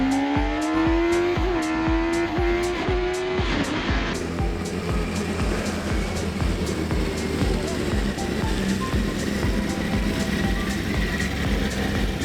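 Motorcycle engine on the race track at Donington Park during a big wheelie, loud and close with a high revving tone that climbs and then drops away into steady roaring engine and track noise.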